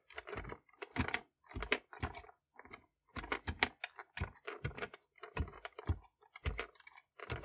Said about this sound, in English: And then you just type them from the left side and make them disappear.